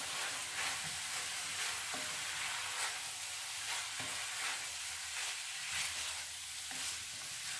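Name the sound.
stirring goulash with paprika in a pot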